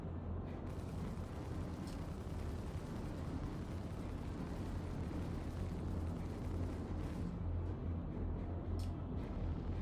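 A heavy, continuous rumbling roar, like a big explosion in the space game Star Citizen, with deep low-end churning and faint mechanical clanks on top, sustained and loud throughout with no speech.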